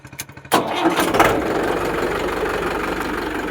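A 2014 Swaraj 841 tractor's diesel engine cranks on the self-starter with a few quick pulses, catches after half a second, then settles into a loud, steady knocking idle nearby.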